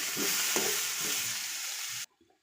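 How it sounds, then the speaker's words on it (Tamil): Onions and tomatoes sauté in a pan for a Chettinad spicy chutney, a steady, moderately loud sizzle with a few stirring scrapes that cuts off abruptly near the end. "அதோட இந்த தக்காளியும் கொட்டிக்கிட்டு நல்லா வதக்கிட்டோம்"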